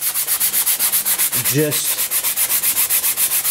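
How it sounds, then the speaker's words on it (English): A flat sanding block is rubbed over the primed finish of a vintage Bob Martin SR-7 RC slope glider in steady back-and-forth strokes. The sanding is close and loud, about seven strokes per second, with a brief murmured word midway. "A flat sanding block really helps."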